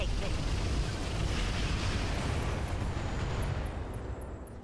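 Heavy explosive rumble and weapon fire from the video game Roguepoint, a loud continuous low boom that fills the whole stretch and slowly tails off toward the end.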